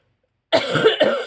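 Two quick, close coughs after a moment of silence, the second following about half a second after the first.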